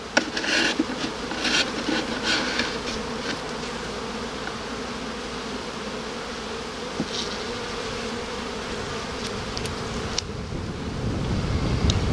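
Honeybees buzz steadily around an open hive, a dense, continuous hum close by with faint wind underneath and occasional brief clicks.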